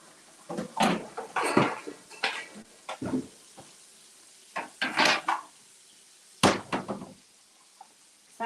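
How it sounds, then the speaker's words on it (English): Dishes clattering while being loaded into a dishwasher in a home kitchen, irregular bursts of clinking and knocking separated by short pauses, close and fairly loud. "I'm going to get my stuff in the dishwasher as well."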